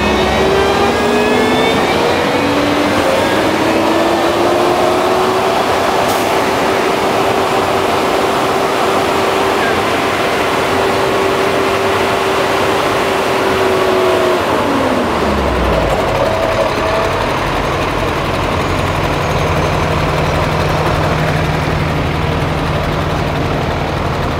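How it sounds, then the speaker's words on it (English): A jet vac truck's heavy engine runs loud and steady, revving up with a rising whine, holding high, then dropping to a lower drone with a strong suction roar throughout as it vacuums out a sewer. "we'll start throttling up the truck engine"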